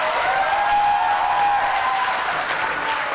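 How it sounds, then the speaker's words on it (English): A debate audience at a Wisconsin Senate debate between Johnson and Barnes breaks into loud, dense cheering and applause that holds steadily throughout, with a voice faint underneath. "Now, don't cheer during the debate."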